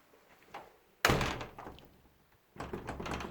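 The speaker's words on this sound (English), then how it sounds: "So, close the door." A repaired door fitted with a new locking bar swings shut with one loud, close thud, followed by a softer rattle of the latch and handle, with no talking.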